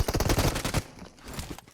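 A burst of rapid automatic gunfire in PUBG Mobile, loud and close, cutting off after about a second into quieter background rumble.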